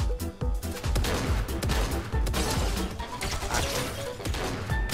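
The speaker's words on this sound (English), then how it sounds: "Oh, somebody's shooting at me." Fortnite gunfire rattles through the whole stretch as rapid, loud, closely packed shots and impacts, with no talking over it.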